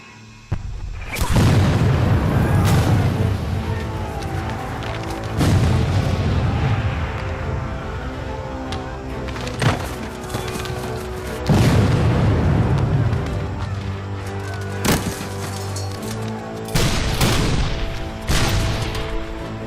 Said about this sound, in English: Joe Davis and his men are marching into a barrage of artillery hell.